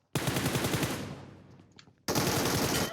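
Machine gun fire in the mobile game PUBG Mobile: a rapid, loud burst of automatic shots that trails off into echo, then a second sustained burst starts abruptly.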